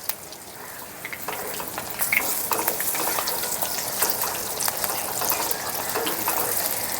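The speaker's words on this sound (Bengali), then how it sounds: "ব্যাটারের মধ্যে ফুলটাকে চুবিয়ে দিয়ে দিচ্ছি তেলের মধ্যে।" Ash gourd flower fritters dipped in batter fry in hot oil, giving a steady, fairly loud crackling sizzle with brief stirring clatter throughout and no talking.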